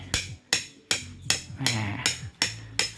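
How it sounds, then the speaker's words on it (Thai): A tent anchor stake is hammered into the ground at a riverside campsite in Saraburi, Thailand, with eight sharp, evenly spaced blows, loud and close, each ringing briefly before the next strike. "นี่กำลังตอกสมอเลยนี่"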